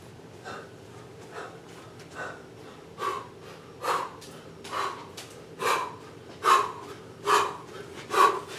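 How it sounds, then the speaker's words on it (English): A Resident Evil 2 character panting heavily after running, rhythmic breathy gasps about once a second, growing louder and harsher across the stretch, close and alone. "He's breathing heavy when he does it."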